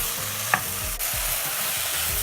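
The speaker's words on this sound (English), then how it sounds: "We're going to saute them few minutes and then slowly we season them." Leeks and potatoes sauté in a pan with a steady, gentle sizzle and one brief scrape of a utensil near the start.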